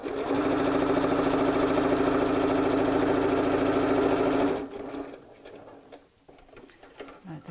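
A sewing machine runs in a steady, loud, close burst of stitching on fabric for an advent calendar cone, stopping abruptly partway through, followed by quieter handling sounds.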